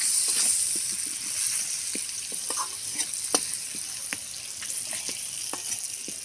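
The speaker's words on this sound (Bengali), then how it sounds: "হলুদ গুঁড়ো নুন দিয়ে আমি এবার আলুটা ভালো করে ভেজে নিই" Potatoes fry in oil with turmeric and salt for a chicken keema curry, giving a steady, close sizzle throughout, broken by sharp stirring clicks and scrapes at irregular intervals.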